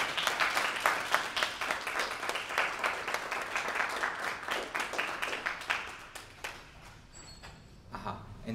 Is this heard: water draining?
no